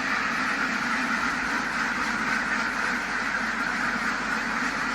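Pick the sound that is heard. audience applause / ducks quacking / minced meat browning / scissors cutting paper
ducks quacking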